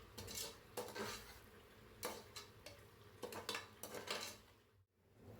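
A spoon scrapes and clinks against a pan while mint and coriander are stirred into prawn biryani masala, with irregular metallic knocks over a faint sizzle, fairly quiet and close.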